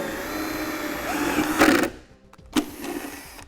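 A power drill drives a self-tapping screw into a car body panel, whirring up with rising strain, stopping, then giving a short second burst.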